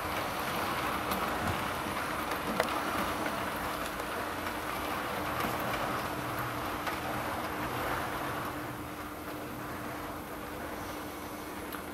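A model train runs on a layout's tracks, a steady, continuous rolling rumble with a faint whining hum that holds at an even level for about twelve seconds, with no talking over it.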